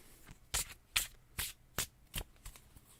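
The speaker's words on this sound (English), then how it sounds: "I do want to give the cards a decent shuffle in between" Tarot cards being shuffled by hand in a quiet room, with six or seven crisp riffling bursts spaced about half a second apart, close and distinct.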